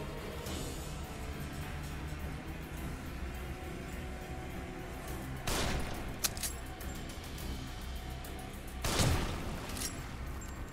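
Sniper rifle shots in the horror game The Evil Within ring out as two distant, booming reports several seconds apart over a low, steady rumbling ambience, each followed by a brief decaying echo.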